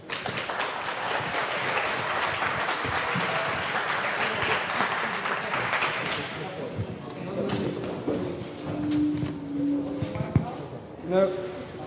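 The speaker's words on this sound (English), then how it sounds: "Could you give him a round of applause?" Applause from a hacker conference audience fills the opening six seconds, a dense, sustained clapping that then fades as chatter, shuffling and a voice take over near the end.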